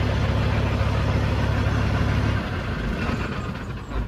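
A Cat C15A truck engine runs at a steady idle close by, a loud, even low rumble that eases slightly partway through, with no talking.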